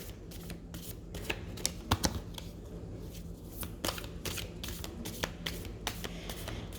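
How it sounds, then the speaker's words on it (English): Tarot cards shuffled by hand, a close, quiet run of soft riffling and flicking card snaps with a few sharper slaps, continuous and irregular, no talk. "First, I'm going to clear the cards."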